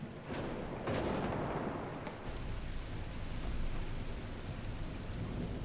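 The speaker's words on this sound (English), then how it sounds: "It is stormy weather." Steady, dense rain with low rolling thunder in a thunderstorm from the video game The Last Caretaker, loud and continuous with no talking.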